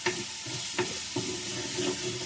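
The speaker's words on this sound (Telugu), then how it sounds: "ఇది కూడా పచ్చి వాసన పోయేంత వరకు బాగా వేయించుకోవాలి" Ginger garlic paste fries in a pan with a steady close sizzle, broken by a few brief scrapes of a spoon stirring it, no voices present.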